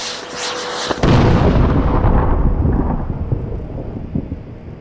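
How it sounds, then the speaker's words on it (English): A loud, booming burst of fireworks-like blasts with a sharp crack, followed by a long rumbling roar that slowly fades out, from the video game Dreamfall: The Longest Journey. "Fireworks? Maybe they're celebrating something."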